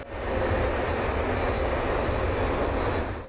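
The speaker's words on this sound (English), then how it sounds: "the flight took off" An Aloha Airlines passenger plane takes off with a loud, steady engine roar that fills the whole stretch, close and constant, with no voices over it.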